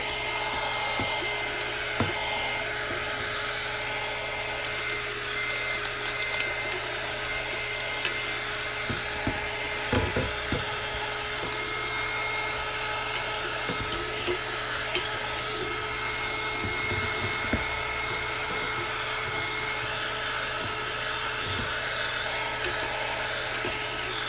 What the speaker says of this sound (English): Now this is a very low heat gun from Amazon.